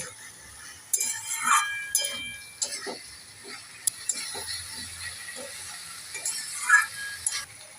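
Fried soybean chunks and shola kochu curry being stirred in a pan, with irregular scraping clinks of the spatula against metal, moderately close, no talk.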